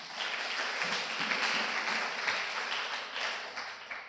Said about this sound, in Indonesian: Kita tepuk tangan dulu dong buat pemateri